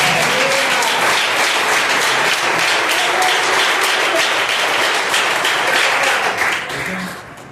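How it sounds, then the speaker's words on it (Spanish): A church congregation at a Spanish-language service in Costa Rica bursts into strong, dense applause, loud and sustained for several seconds before tapering off at the end. "Den un fuerte aplauso al Señor."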